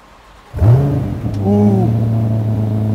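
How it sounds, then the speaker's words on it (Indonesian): A Chevrolet Corvette V8 engine cranks and fires on a cold start, revs up briefly with a rising roar, then settles into a steady, deep rumbling idle. "Wah, ini cold start ya."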